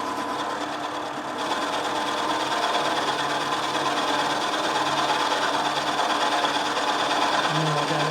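A tool cutter grinds on a spindexer, a continuous harsh buzzing grind with rough chatter, loud and steady throughout with no talk.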